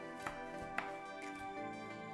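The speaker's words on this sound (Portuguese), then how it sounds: "descasque meia cenoura e corte ela à julienne" A knife cuts a peeled half carrot into thin julienne strips, giving a few soft, separate chops over a steady musical background.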